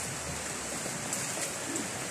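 A steady, soft, continuous hiss of rain falling in a backyard with no wind during Typhoon Kristine, with no voices.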